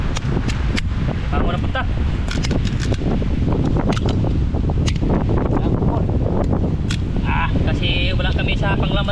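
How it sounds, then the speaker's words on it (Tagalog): Strong wind buffets the microphone outdoors during a crab-catching outing in a flooded area, a loud, constant broadband roar running the whole time under people talking. "Grabe lakas ang hangin mga idol"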